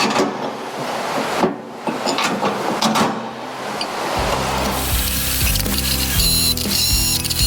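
A Milwaukee power tool drives long bolts into a John Deere 2038 tractor, first with rattling metal handling and clanks, then a loud steady mechanical whir and rapid ratcheting hammer that runs continuously close by.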